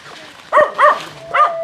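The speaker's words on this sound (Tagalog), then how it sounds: "May tumatahol dyan na aso" A dog barks several times in a forest setting near a hut, the barks fairly close and sharp, spaced irregularly over a steady background of birdsong and insects.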